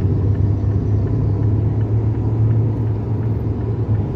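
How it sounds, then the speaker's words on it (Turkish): Inside a diesel car cruising on a highway, a loud, steady low rumble of engine and road noise fills the cabin without pause. "Şu anda bir arabanın sesini değiştiğini fark ettim zaten."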